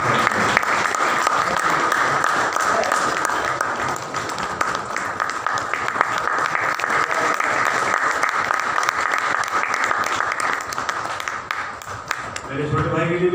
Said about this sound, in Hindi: मैं चाहूंगा कि तालियां चलती रहे जब तक